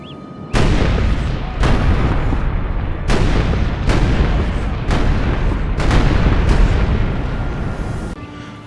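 Siege-era cannon fire from gunpowder artillery: six heavy, booming blasts, loud and close, spaced roughly a second apart, each with a long rumbling tail that overlaps the next.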